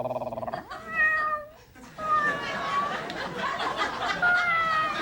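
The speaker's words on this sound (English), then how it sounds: "Wild cats like this still have wild instincts" A wild cat at a zoo education program lets out a few drawn-out meows and yowls up close, with people talking and laughing over and around the calls.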